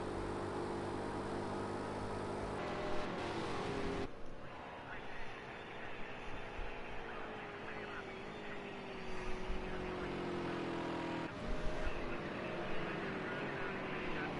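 GT4 race cars at Dubai Autodrome roar past, with engines rising and falling in pitch as each car passes and fades, while a commentator talks over the passes.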